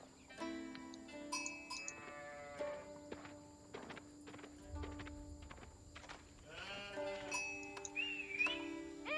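Sheep bleating in the Age of Empires 4 real-time strategy game, several wavering bleats in a row at moderate loudness, mixed with soft game clicks and light hoof-like tapping.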